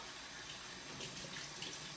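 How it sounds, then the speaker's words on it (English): Tap water runs steadily from a faucet over frozen fruit being rinsed in a sink, a soft continuous hiss of splashing water with no voices over it. "what I do with these also is I add water to clean them"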